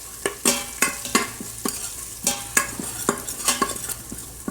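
Potato curry with curry leaves is stirred in an Instant Pot on saute mode. Quick spoon scrapes and clinks come in an uneven run over a light sizzle, close up, with no talking.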